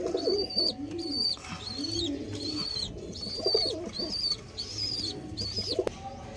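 Caged pigeons kept for sale coo repeatedly close by in soft, rolling, low calls. A series of higher chirping notes runs over the cooing, with faint background noise.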